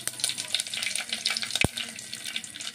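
Curry leaves dropped into hot oil already frying mustard seeds, urad dal and fenugreek for an okra pulusu, giving a steady, close crackling sizzle with a brief sharp pop near the middle and no talking.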